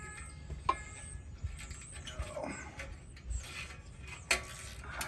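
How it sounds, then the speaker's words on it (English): Rusty heat shield bolts being worked loose from the exhaust of an old Harley-Davidson Dyna, faint ratcheting clicks and metallic scrapes in quick irregular bursts against a quiet garage background. "I'm gonna be getting this heat shield off here"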